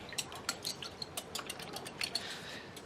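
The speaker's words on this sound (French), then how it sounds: "Je vais casser mes œufs. Tac. Je vais déjà les battre." Eggs are whisked in a bowl for rhubarb muffins, giving a quiet, steady run of light clinking taps from the whisk against the bowl.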